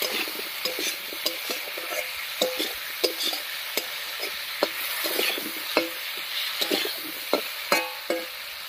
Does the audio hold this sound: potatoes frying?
yes